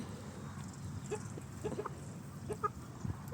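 Free-range country chickens on a farm, including a breeder hen, give faint, scattered clucks and short calls over a soft, constant outdoor hum.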